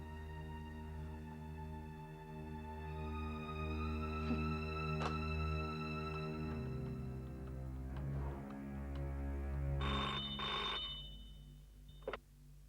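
A telephone rings out on an outgoing call as a man phones a hospital in a horror drama, steady repeating ring tones filling the line alone with no voices, ending in a short click.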